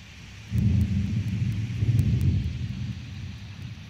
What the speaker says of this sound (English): This is the sound of a thunderstorm.